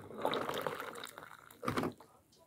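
Warm water is poured into a container in a kitchen in Japan, a soft liquid trickle with a brief louder splash near the end, quiet and close.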